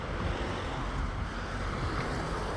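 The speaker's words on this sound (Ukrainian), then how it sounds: "О, це вже море." Sea waves rolling onto a beach in Zanzibar, a steady broadband wash of surf with wind noise buffeting the microphone, continuous and fairly close, with no voices.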